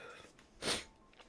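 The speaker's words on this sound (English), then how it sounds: "Stop sneezing." A single short, breathy sneeze from a person commentating a baseball video game, close to the mic, quiet, with a little breathing around it.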